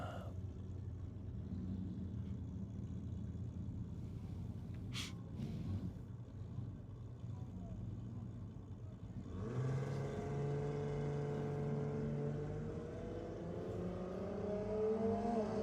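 Early Holden cars, including an EJ sedan, with red motors launching at a drag strip, a rumbling idle followed by a loud rising roar of acceleration heard from a distance.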